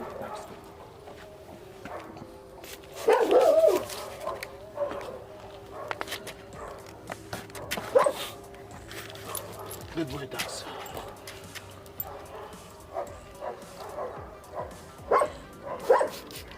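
A dog whimpers and gives short yips and barks while its ears are sprayed with an apple cider vinegar solution to clear bacteria and insects, the sounds coming in brief bursts under steady talk from people nearby.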